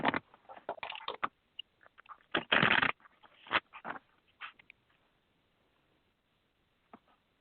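Cards shuffled for a psychic reading: a few quick papery riffles and flutters, loudest in a short burst near the start, then fading into sparse soft taps and near silence.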